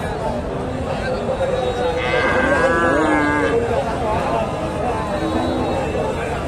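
A Friesian bull moos in a long, low, drawn-out call at close range at a cattle market, with a faint murmur of people in the background.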